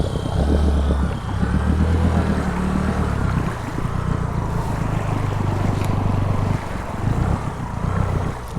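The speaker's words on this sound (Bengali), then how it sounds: "আমরা হাঁটু জল পানিতে বাইক রাইড করতেছি।" A motorbike riding through knee-deep water in a large wetland, its engine droning steadily and loudly while water churns and splashes around it throughout, close and continuous.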